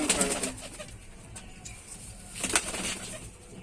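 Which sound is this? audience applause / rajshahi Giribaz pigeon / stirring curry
rajshahi Giribaz pigeon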